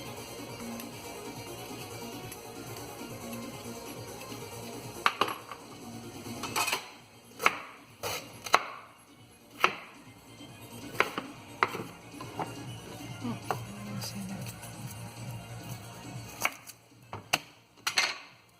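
Garlic is chopped with a knife on a board, with a scattered series of sharp, close chopping taps over a steady background hum and no talking.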